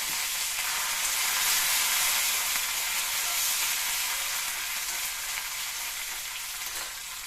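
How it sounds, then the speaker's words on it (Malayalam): Loud, continuous crackling sizzle of mustard seeds, dried red chillies, chopped shallots and curry leaves frying in hot oil, gradually easing slightly toward the end. "ഇതാ കടുക് വറുത്തിട്ടിട്ടുണ്ട്"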